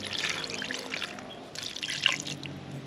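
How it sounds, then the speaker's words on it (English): Water poured into a roasted guinea fowl soup base, a close, bubbly trickle and splash in two bursts with a brief pause between. "So add a little bit water to the base because there is no water in it."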